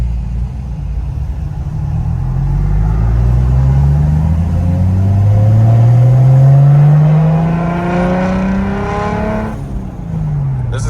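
Single-turbo BMW 335i accelerating hard at highway speed, heard from inside as a loud, steady engine drone rising in pitch through several gears, with brief dips at each shift and a whooshing turbo note on top.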